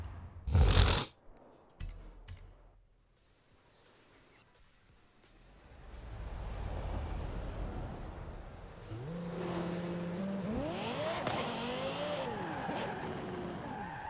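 Drag car engine in Forza Horizon 5, a sharp roar at the start, then a low building drone and loud revving with rising and falling pitch sweeps through the later half, no talk.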